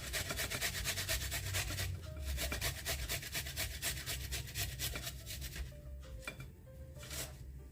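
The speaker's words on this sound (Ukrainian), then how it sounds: "на зовсім таку дрібненьку, не на гостру цю, а просто на дрібненьку решіточку натираємо чесночок" Garlic is rubbed over a fine-holed grater in fast, regular rasping strokes, close and steady, with a few short pauses and no talking.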